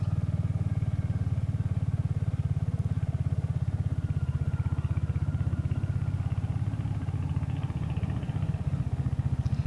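Motorcycle engine running steadily and loud throughout while riding through wide summer country lanes, a continuous throbbing drone with no talk.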